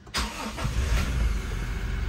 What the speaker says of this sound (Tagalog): On pala muna natin kotse syempre.